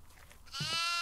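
Goat bleating in the horror game Devour, a single loud wavering bleat rising abruptly out of faint background noise and holding to the end.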